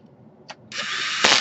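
A power screwdriver whirs steadily as it drives a small screw into a Toshiba L455 laptop during repair, preceded by a faint tap and ending in a short louder burst as the screw seats.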